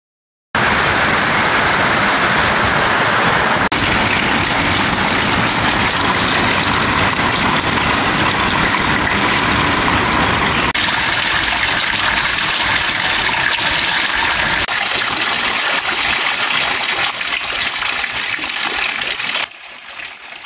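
Heavy rain pours down fast beside a house garage, making a loud, dense, continuous hiss of falling water that runs for most of the stretch before cutting off abruptly near the end.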